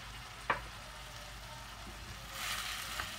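Boiled beef pieces and vegetables frying in oil in a pan, a faint soft sizzle with a sharp stir clink early on and a brief louder hiss swelling near the end.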